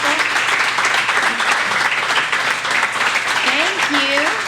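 A small venue audience claps and cheers after a live acoustic song by a duo, steady close applause throughout, with a voice speaking briefly near the end.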